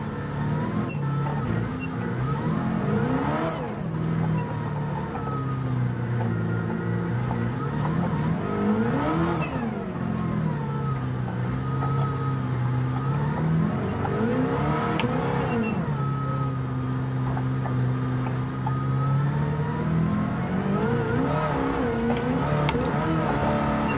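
A rally car's engine revs and swoops repeatedly while drifting through corners in Gran Turismo 7, rising and falling in pitch in long surges, loud and close throughout.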